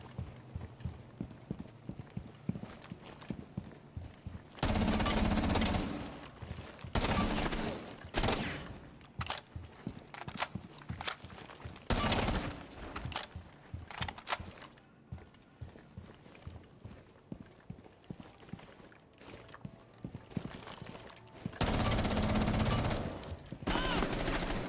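Rapid bursts of automatic gunfire from recoil practice in Rainbow Six Siege, loud repeated volleys separated by short pauses across the whole stretch.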